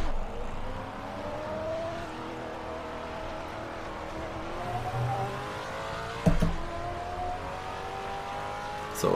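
Race car engine driving the Monza circuit in Assetto Corsa, a Maserati Alfieri or Pagani Huayra BC, steady revving with rising and falling engine tones, gear changes and a sharp bump near the end.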